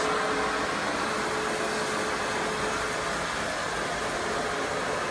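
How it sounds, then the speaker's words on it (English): A ProTeam backpack vacuum cleaner runs continuously during floor cleaning, a steady loud broadband whoosh with a faint constant whine and no pauses. "I'm going to allow the vacuum to work."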